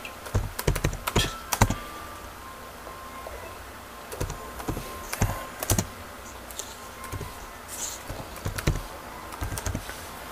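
Bursts of rapid key clicks on a computer keyboard during bootloader commands for a Nexus 7 (2012) tablet, close and crisp, coming in quick clusters separated by short pauses with no voice.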